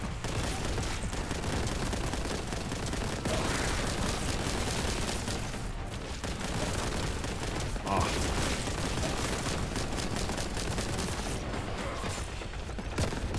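The main gun firing in Warhammer: Boltgun, a dense, continuous barrage of loud rapid gunfire and impacts sustained throughout with game noise and a voice talking over it.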